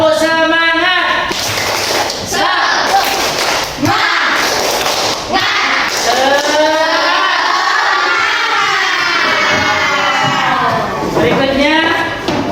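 Schoolchildren in a classroom chant together in loud, sing-song unison while clapping in bursts, the claps landing as sharp thumps between the chanted lines.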